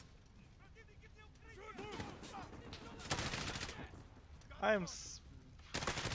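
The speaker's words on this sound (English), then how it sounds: "I'm getting shot from I don't know where, dude." Rapid gunfire bursts and single shots crackle through a Call of Duty Modern War match, loud and close, with people talking over the firing.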